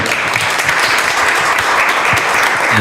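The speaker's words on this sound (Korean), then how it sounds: "박수 한번 주시죠" Steady, dense applause from a crowd at a startup forum talk concert, loud and continuous throughout with no voices standing out.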